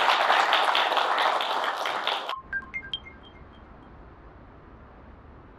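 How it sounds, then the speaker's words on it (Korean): An audience applauds in a dense burst of clapping that stops abruptly after about two seconds, followed by a few faint high tones and quiet room hiss. "박수 한번 치고 시작하겠습니다."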